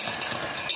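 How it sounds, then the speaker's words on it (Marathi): An electric beater running on speed 1 churns a mango ice cream base, giving a brief, steady whirring and stirring texture with faint clicks of the beaters against the bowl. "तर आता मी फक्त 1 वरच हा ठेवणार आहे आणि हे बीट करणार आहे."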